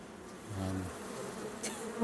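Honey bees hum softly in a continuous drone over an open hive during an inspection, with a brief low tonal note early on and a few small knocks near the end.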